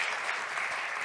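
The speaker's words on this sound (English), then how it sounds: "an applause for our panelists" A conference audience at the European Data Summit applauds panelists after a discussion, giving a short burst of dense, steady clapping from many hands at a constant level.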